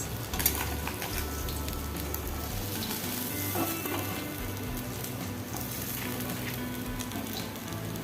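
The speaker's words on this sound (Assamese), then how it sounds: "আৰু এয়া মাছ ফ্ৰাই হৈ গ'ল।" Fish fries in hot oil with a dense, continuous sizzle and crackle, close by and fairly loud, with an occasional light stir.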